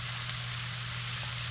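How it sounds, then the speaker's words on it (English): Vegetables steam and sizzle in a pan, a dense, even frying hiss with a low steady hum beneath, close and constant without talk. "So, we're just going to let these get steamed all up here real good."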